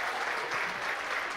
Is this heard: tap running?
no